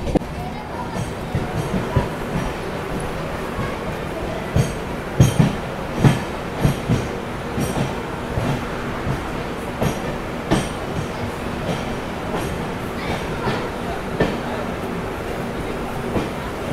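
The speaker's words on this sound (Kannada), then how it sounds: "ಗುರುಗಳೇ, ಇದು ನಮ್ಮ ಉದ್ಯಾನ್ ಎಕ್ಸ್ಪ್ರೆಸ್ ತಲುಪಿದೆ." Udyan Express passenger train rolling into Lonavala railway station, a sustained rumble with rhythmic clickety-clack of wheels over rail joints and occasional squeals, heard from on board with voices in the background.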